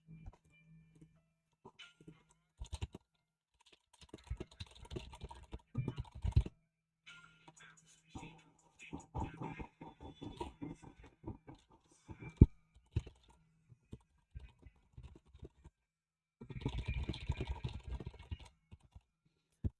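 Rapid computer keyboard typing in bursts of fast clicking keystrokes, close and fairly quiet, with short pauses between flurries during a late-game duo gaming session.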